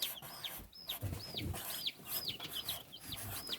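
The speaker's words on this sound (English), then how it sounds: "Little baby chicks." Baby chicks peep in a steady series of short, high, rising-falling cheeps, fairly close, over a soft background rustle, with no talking.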